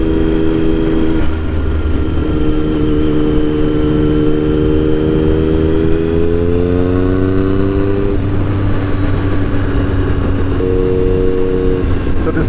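A 2009 Triumph Speed Triple 1050 is ridden on a two-lane road, its three-cylinder engine droning loudly and continuously with rising and falling pitch as the throttle changes, under heavy wind noise.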